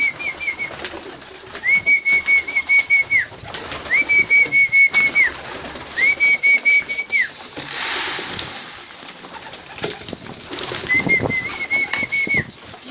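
Domestic pigeons cooing in repeated phrases while eating barley, each coo a sustained rising-and-falling call, close and clear over faint rustling and a brief splash-like burst midway.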